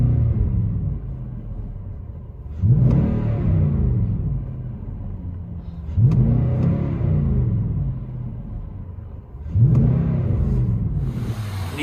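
A 2019 Nissan Titan Midnight Edition SV pickup with a 14-inch Magnaflow muffler revs three times, each surge swelling into a loud, deep exhaust roar and then falling back to a steady idle rumble.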